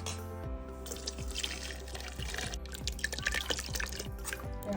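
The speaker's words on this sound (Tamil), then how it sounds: "நான் பால் வடிகட்டிக்கலாமா?" Freshly made coconut milk is strained, giving soft, close dripping and trickling of liquid at a low level, with small irregular drops falling throughout.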